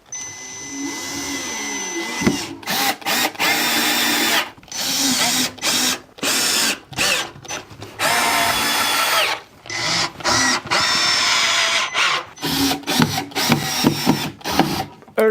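A power drill drives screws to fasten a router table cabinet to the floor, loud and close, in repeated bursts of high-speed whirring separated by short pauses.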